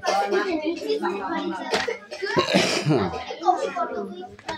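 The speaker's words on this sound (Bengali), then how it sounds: "এই কার কাশি হয়েছে রে" Someone in a group of children coughs a few times, short harsh bursts mixed in among kids' voices and chatter nearby.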